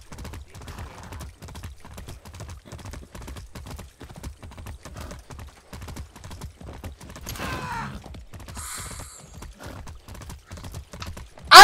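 Horse hooves galloping in Far Cry 6, a steady rapid clip-clop running the whole way through, with a brief whinny-like sound and a sharp loud burst at the very end.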